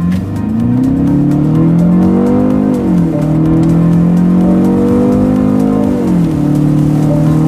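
A simulated engine note for a 190-horsepower 2.0T BMW 5 Series, played through the Harman Kardon speakers in sport mode, booms loudly inside the cabin and climbs in pitch through two rising sweeps, each dipping between gears.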